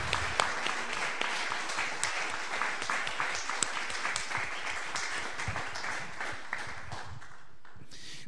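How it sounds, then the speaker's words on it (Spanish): A church congregation breaks into strong applause for the Lord during a Spanish-language sermon, dense, continuous clapping that holds for several seconds and fades slightly at the end. "¿Por qué no le da un fuerte aplauso al Señor?"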